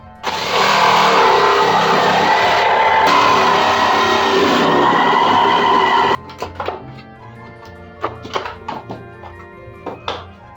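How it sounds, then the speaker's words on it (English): A loud power jigsaw buzzes steadily through wood, cutting out a cat door opening, for several seconds, then stops, followed by scattered taps and handling clatter. "I used a jigsaw to cut out the holes."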